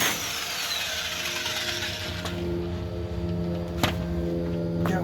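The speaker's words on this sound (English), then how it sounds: "taking off the nuts on the shackles" Rusty nuts being worked off the front axle shackles of a 1958 International Harvester A-120 4x4 Travelette, a steady mechanical whirr of a power tool running nearby, with sharp metallic clicks near the end.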